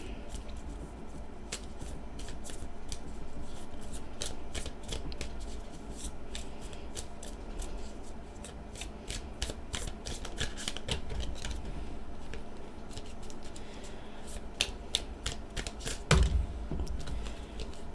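Small tarot cards are shuffled by hand in a quiet room, a long run of quick papery riffles and soft flicks, close and fairly faint, with no talking.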